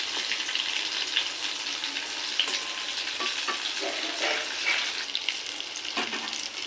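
Ash gourd fritters frying slowly in a pan, a steady soft sizzle with faint crackles and occasional light stirring clicks, no voices.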